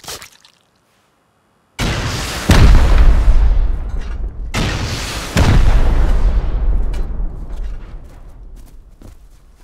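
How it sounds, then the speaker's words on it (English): Two heavy rocket explosions during a raid in the video game Rust, each a sudden deep boom with a long rumbling decay, close and loud, separated by a few seconds after near silence. "We're launching rockets in there."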